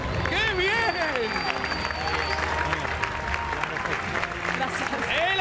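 Studio audience applause on a television game show, a crowd clapping steadily under a loud presenter's voice and excited shouting, with a bright tone sweeping through the background.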